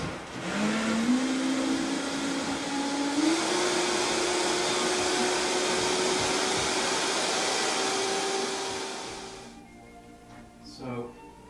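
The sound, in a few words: industrial mixer running on low speed mixing chocolate mousse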